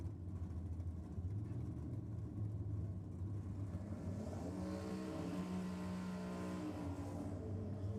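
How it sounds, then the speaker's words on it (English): A turbocharged LS engine in a Holden VK drag car idles with a steady low rumble at a drag strip. A rising whistle of turbo spool builds over the second half. The sound comes from a moderate distance and no one speaks. "There's the turbo spool"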